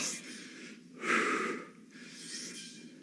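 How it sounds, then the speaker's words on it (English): Heavy breathing close to the microphone during a mace exercise workout, three slow, loud breaths in and out, breathy and rasping with short pauses between. "I know you can hear me breathing too."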